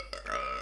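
A woman's short, close burp that swells after a brief catch and sustains with a croaky tone to the end.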